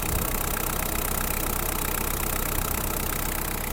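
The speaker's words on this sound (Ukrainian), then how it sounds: "ми вже двигун трішечки прогріли" A warmed-up Kubota GT8 (Hinomoto NZ260) mini tractor engine idles steadily close by, a constant rumbling drone that stays even throughout with no talking.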